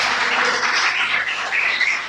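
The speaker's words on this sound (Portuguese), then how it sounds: "Jesus merece uma salva de palmas por isso." A church congregation in Portugal breaks into dense, sustained applause during a Lord's Supper service, the steady clapping filling the room throughout with no clear voice over it.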